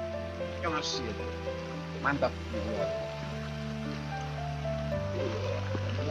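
Hot water pours from a shower spout at the Cileungsing hot spring baths at night, a steady close splashing rush running throughout while people talk over it.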